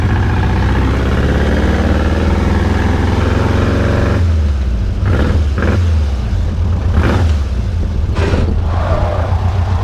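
A VW beach buggy engine idles and then pulls away with a low, steady rumble, punctuated by a few clattering rattles and knocks from the body; its brakes lock up.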